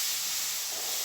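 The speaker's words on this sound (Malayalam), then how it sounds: "ഇതിൻ്റെ ഒരു പച്ച ചുവ മാറുന്നത് വരെ ഒന്ന് വഴറ്റി എടുക്കണം" Crushed garlic and ginger sizzle steadily in a hot pan while cooking a soybean curry, giving a continuous loud hiss throughout with no talk.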